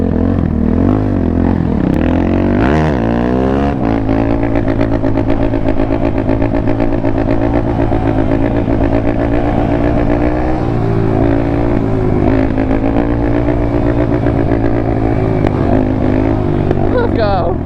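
A dirt bike engine runs loud and close, holding a steady droning rev with a couple of rising throttle blips, while people talk over it.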